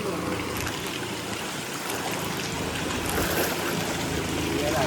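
Floodwater rushes through the streets of Chalala town during heavy monsoon rain, a steady, full-bodied wash of flowing water that runs continuously and fairly loud throughout.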